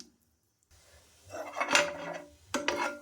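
Cloves, cardamom and cumin tossed in hot oil and stirred, heard as two brief bursts of scraping and rattling in a pan after a short silence, close and fairly soft, without speech.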